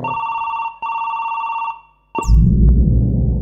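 A mobile phone rings with a loud electronic ringtone in two repeated bursts. The ringing breaks off abruptly into a noisy rustle, with no speech.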